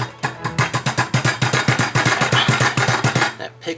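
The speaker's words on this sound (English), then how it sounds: "Knock out some air bubbles." A rapid series of sharp knocks, roughly a dozen in quick rhythm, close by, as glass jars of pickled chanterelle mushrooms are tapped repeatedly on a hard surface to knock out air bubbles.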